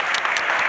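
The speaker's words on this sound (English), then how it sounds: "can we give a hand of applause?" Audience applause from a crowd at a talk on AI and search, a steady dense wash of clapping filling the whole short moment at close range.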